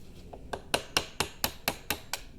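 A hammer drives a screwdriver against the C-clip on a U-joint cap of a RZR prop shaft, giving about eight sharp metallic taps at a steady pace. The taps are close and clear, with nothing else heard.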